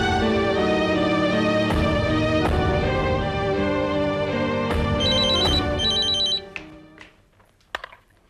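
A telephone rings loudly and steadily with sustained bell-like tones over music for several seconds, then cuts off, leaving a quieter tail with a few faint clicks.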